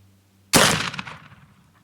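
A single sharp rifle gunshot fired while sighting in at a range, a loud close crack with a decaying echo tail, preceded by quiet outdoor background.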